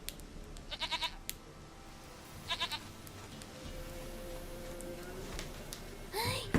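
A goat in The Witcher 3 lets out short quavering bleats in two quick bursts, faint and somewhat distant over a quiet game ambience, followed by a longer, softer tone and a closing rustle.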